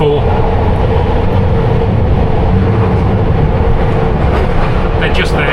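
A London Underground Piccadilly Line train, heard from the rear cab, rumbles over points toward the eastbound track, a loud continuous rolling roar with rhythmic wheel clatter and a few sharp squeaks near the end; someone talks over it.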